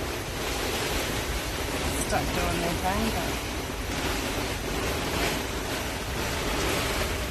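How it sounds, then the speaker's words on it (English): Dense, steady roar of heavy rain and wind from a storm at an outback Queensland caravan stop, constant throughout, with a voice speaking briefly underneath. "Massive storm rolled in."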